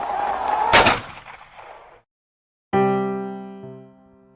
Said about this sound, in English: A shot rang out at the Lorraine Motel in Memphis, Tennessee.